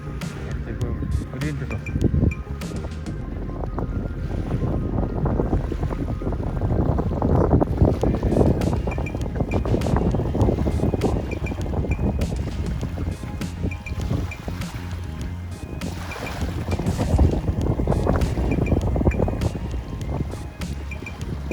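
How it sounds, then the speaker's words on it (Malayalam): Two jet skis speed past across open water on the Gold Coast, a steady broad engine-and-spray roar swelling and easing over the whole stretch, with wind buffeting the microphone. "ഇതാ 2 ജെറ്റ് സ്കി അതിലൂടെ ഹൈ സ്പീഡിൽ പോകുന്നു"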